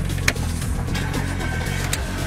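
A car engine started electronically by a thief's device, settling into a loud, steady low idle rumble close by, with a few faint clicks on top and no talking.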